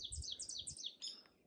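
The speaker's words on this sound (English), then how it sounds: "The birds, the quiet." Small birds chirp and tweet along a quiet spring hiking trail on an overcast day, a rapid run of faint, high calls repeating close together over a soft background hush.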